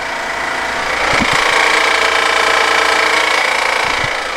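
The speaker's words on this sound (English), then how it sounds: "Sounds kind of the timing belt or chain or whatever it uses." A Dodge Charger engine idles close by with a steady mechanical rattle and ticking like timing chain or belt noise, a constant buzzing drone with faint irregular knocks over a cold idle.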